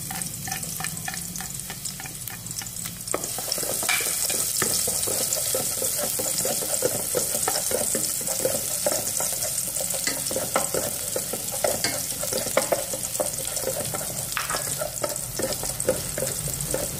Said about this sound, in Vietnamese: các bạn cho mình phần hành và tỏi, mình phi thơm lên nhé